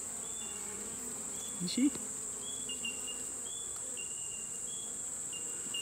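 Honeybees buzz steadily around a beehive nuc during an inspection with a newly delivered queen, a close, continuous droning hum while a person briefly speaks.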